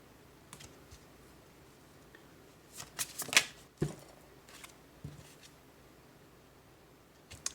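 Tarot cards are shuffled by hand in quiet sporadic bursts, a few soft riffles and taps clustered in the middle with sparse flicks before and after, no speech over them.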